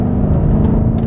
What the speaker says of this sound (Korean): 살짝만 스로틀을 열어도 차는 우웅하면서 거칠게 튀어나가거든요